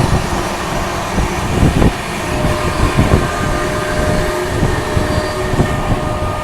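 A West Bengal Sampark Kranti Express rolls past the Triveni Express: a steady, loud rumble of rail running with rhythmic wheel clunks over joints, heard from on board with no talk.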